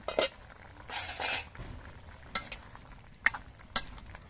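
Bottle gourd curry with lentil dumplings being stirred in a pan, a few scraping stirs and soft clinks of a spoon against metal spaced out over a quiet background with faint cooking noise.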